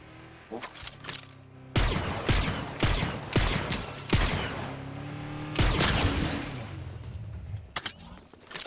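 A burst of sharp, loud gunshots in a battle royale match, fired in quick irregular bursts with echoing tails, some close and punchy, tapering into quieter scattered shots.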